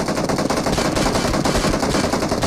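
Sustained, loud automatic gunfire in a video game forms a dense, unbroken rattle of rapid shots throughout, with no speech over it.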